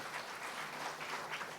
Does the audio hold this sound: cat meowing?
no